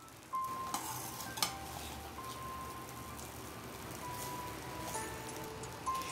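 Cooked rice is stirred into a pan with salt for mango rice, giving a soft, low sizzle with a few spatula clinks and scrapes, fairly quiet throughout.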